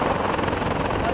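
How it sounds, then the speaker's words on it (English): Helicopters flying over a small Iowa town, a dense rhythmic rotor thrum with wind-like rumble, steady and fairly loud for a brief moment. "I just seen helicopters coming down"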